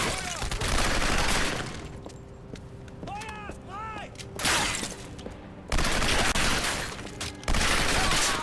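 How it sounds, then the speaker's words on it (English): Tommy gun in Turning Point: Fall of Liberty firing in loud, dense bursts, with a long burst at the start, a quieter gap holding a few clinks, then several more heavy bursts of rapid automatic fire close up. "I am very pleased with this Tommy gun."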